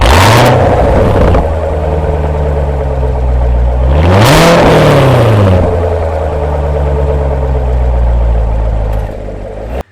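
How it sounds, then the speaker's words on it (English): A C7 Corvette with straight-pipe exhaust revs hard twice, its loud, aggressive note rising and falling in strong swells with a sustained engine drone between, cutting off abruptly at the end. "a loud exhaust note that also engages the outer two straight pipes for a much more aggressive sound"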